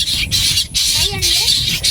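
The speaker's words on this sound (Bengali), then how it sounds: "এ পাখি পাখি ঝগড়া করতেছে" Birds fighting give harsh, repeated squawks in loud bursts with brief gaps between them. Faint talk can be heard underneath.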